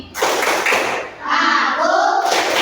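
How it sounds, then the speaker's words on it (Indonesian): A primary school class claps together in a concentration clap routine, several loud, sharp bursts of group clapping in quick rhythmic patterns, close and filling the room. "Tepuk konsentrasi."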